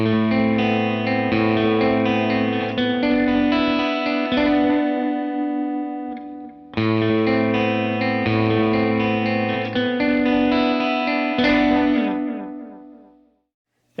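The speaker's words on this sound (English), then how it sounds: "Here's a medium length delay with no reverb." Guitar through a Moonstruck analog delay pedal set to a medium delay time with no reverb, two strummed chord phrases each trailing into repeating echoes that fade out, loud and close with no talking.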